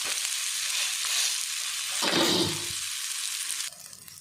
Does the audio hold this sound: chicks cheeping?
no